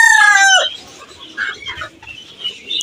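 A rooster crows loudly at the start, then scattered soft clucks and bird calls follow from chickens and pigeons at a Sunday bazaar in Peshawar.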